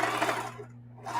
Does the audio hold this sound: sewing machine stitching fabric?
yes